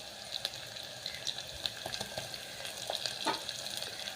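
Onion with ginger garlic paste fries in a pan, a soft steady sizzle with occasional scraping stirs, close and fairly quiet, no talking.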